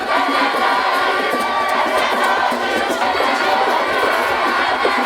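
A large crowd cheering at a political meeting in Chirire, a dense, loud, continuous roar of shouting voices with no pauses.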